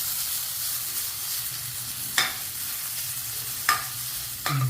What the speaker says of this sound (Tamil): இப்போ நல்லா கேரட் வெந்துருச்சு நல்லா வதங்கிடுச்சு பாருங்கள் நல்லா வதங்கிடுச்சு